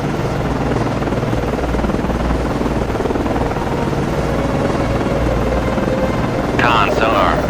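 An aircraft launching from a missile cruiser, USS Valley Forge, in the naval game Cold Waters: a loud, continuous rotor-like drone holds steady throughout, swelling slightly near the end.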